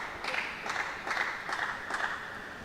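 Home crowd at a European para table tennis championship match clapping in several short bursts, a steady hall murmur underneath, moderately distant.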